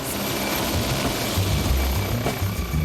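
A helicopter flies over a beach motorcycle race, its rotor and engine producing a loud, steady, close whirring roar throughout.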